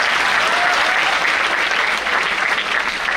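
Audience applause at a motivational seminar for students, dense steady clapping from a large crowd that fills the room continuously without a break.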